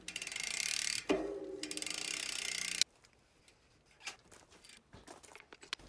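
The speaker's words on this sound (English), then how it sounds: "we want to make sure we shift the gears into the small ring first" A mountain bike's gears shift and its rear wheel ratchets: a loud, dense run of freewheel clicks for about three seconds, briefly interrupted, then quieter scattered clicks and knocks.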